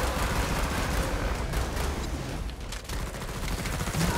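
Dense, continuous gunfire in Killing Floor 2, a constant rattle of many weapons firing at once, loud and close throughout with no pauses.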